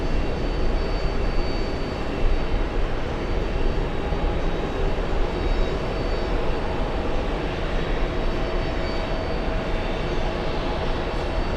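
A heavy jet aircraft taking off from runway 22 right at JFK, a loud, steady, broadband engine roar that fills the whole stretch without fading, no talk.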